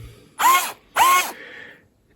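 Two short whirring bursts come from a Bosch GO cordless screwdriver driving a screw, each lasting about a third of a second with a brief pause between, followed by a fading mechanical tail.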